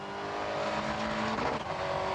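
A Ford Escort Cosworth slides on a streaming-wet road, its engine droning steadily up close as the tyres hiss and briefly squeal through the slide.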